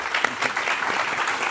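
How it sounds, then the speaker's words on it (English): Brief burst of steady audience applause closing a panel session at an industry summit on manufacturing, dense clapping from a crowd throughout. "please keep the applause going for Richard, who led the session"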